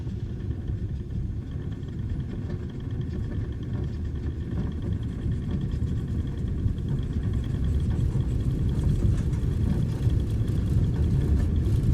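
A Cessna 152 runs at full throttle on its takeoff roll in snowy weather near Truckee, a steady loud droning engine roar with heavy low rumble that builds slightly over the run, heard from inside the cockpit with no talk.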